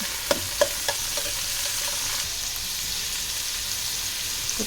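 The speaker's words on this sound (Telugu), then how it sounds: "ఇప్పుడు ఉల్లిగడ్డ, పచ్చిమిర్చి వేసుకోవాలి. వేసుకున్నాక ఒకసారి బాగా కలబెట్టుకోవాలి." Chopped onion and green chillies sizzle steadily in hot oil in a pan, with a few sharp clinks of a stirring spoon near the start and then a continuous crackling fry.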